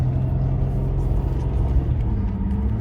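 A 2004 Cadillac CTS with the 3.6 engine accelerates while driving, giving a steady, close low rumble of engine and road noise that holds level throughout, with no talk.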